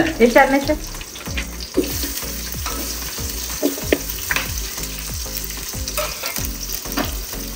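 Onions fry in a hot pan with a bright, crackling sizzle, while a spoon scrapes and stirs in repeated strokes, close and continuous, with a burst of spattering at the start.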